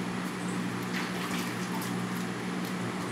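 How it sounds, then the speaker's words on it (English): Water runs steadily from a tap while hands are washed, a continuous close hiss at an even level with no break. "I gotta wash my hands"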